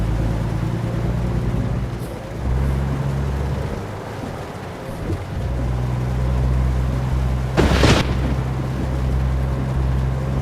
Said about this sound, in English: Man, that's some loud lightning